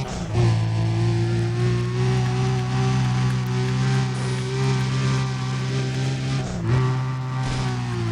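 A car in Need for Speed: Undercover drives a sprint race from Valencia to Hillside Boulevard, its engine holding a loud, steady high drone with a brief gear-change dip near the end, no talk.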